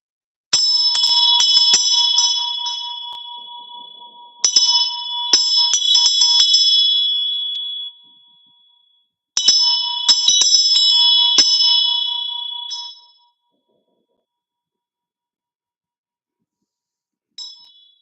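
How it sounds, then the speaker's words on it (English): A peace bell is struck three times, each ring a bright, clear metallic tone that hangs and slowly fades in the quiet before the next, followed after a long pause by a faint final chime. "I am going to finish up with 3 rings of this peace bell."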